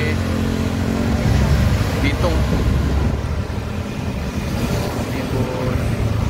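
Sumatran intercity buses, including a double-decker, roll past on a busy road toward Java in the early-morning rush, a steady loud rumble of engines and tyres with wind buffeting the microphone while someone talks over it.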